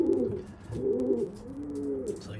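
Racing pigeons coo inside a loft, older males making repeated low rolling calls, close and moderately loud, with no voices.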